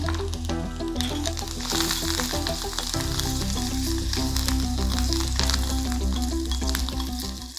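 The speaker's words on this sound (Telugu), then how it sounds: "వేయించిన పోపు తీసి పక్కన పెట్టేస్తానండి" Garlic, asafoetida and curry leaves crackle and sizzle in hot oil as a tempering fries, a dense close sizzle with faint stirring, steady and fairly loud for several seconds, with music playing underneath.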